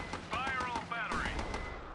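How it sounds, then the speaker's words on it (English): Artillery battery firing in the video game Battle Islands Commanders, a rapid series of sharp booming shots with whistling shells, heard over game music and speech. "Fire all battery."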